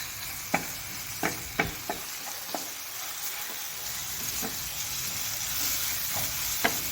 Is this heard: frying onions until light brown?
yes